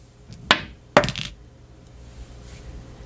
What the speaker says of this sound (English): I'm going to throw this quartz crystals out here onto the cards.